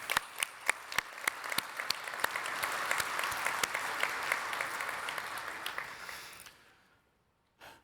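Conference audience applauding at a general session, dense sustained clapping with a few sharp nearby claps that builds and then fades out quickly near the end.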